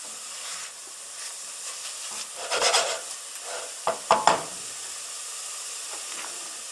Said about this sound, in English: the shallot and the leek have been sweating